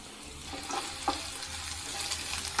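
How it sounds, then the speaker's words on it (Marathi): Onion, ginger and garlic frying in hot oil for clams masala, a steady soft sizzle with faint stirring scrapes, heard close and quiet with no talking. "तेल तापल्यानंतर यामध्ये कांदा घालूया, आलं आणि लसूण घालूया।"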